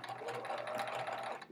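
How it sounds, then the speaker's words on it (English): A sewing machine stitches strips of quilt sashing fabric together in one steady, fast mechanical whir, close but fairly quiet, with no voices. "then we sew these together"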